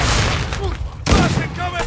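Gunfire crackles through a Modern Warfare 2 Hardpoint match on the Santa Sena Border Crossing map, dense bursts with booming hits in a steady, loud wash of combat noise.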